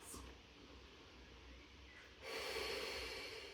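Heavy breathing follows a Pilates upper-body stretch done with weights: a quiet, close breath is followed by a louder, longer rushing exhale.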